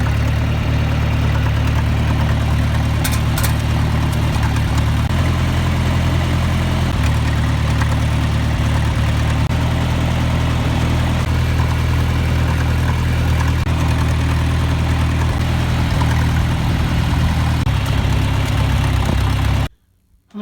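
Farm tractor engine idling steadily after blading a pasture road, a loud, continuous low rumble with a slight shift in pitch partway through, alone until it cuts off abruptly at the end.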